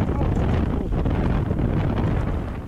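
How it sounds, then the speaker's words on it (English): Strong outdoor wind buffets the microphone in a loud, steady rumbling roar that lasts the whole moment, with gusty surges and no clear voices. "it's usually very windy like right now"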